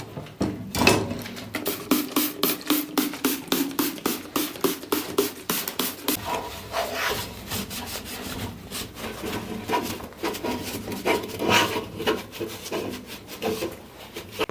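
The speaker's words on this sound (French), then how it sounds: "donc toujours mon chiffon avec mon petit tournevis" A cloth wrapped over a small screwdriver scrubs inside a bicycle wheel and freewheel during restoration of a 1960s Louison Bobet Spécial Tour de France, giving close, steady, rapid rubbing and rasping strokes that carry on throughout with no talk.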